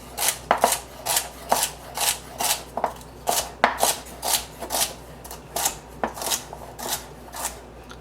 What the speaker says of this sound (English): and chop through your celery.